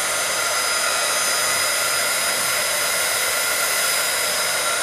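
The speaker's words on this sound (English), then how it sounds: "I will take my ancient heating tool, heat it up off screen for a little bit." A heat embossing tool blows hot air in a continuous, even, hair-dryer-like whoosh, close and steady for the whole stretch with no talking.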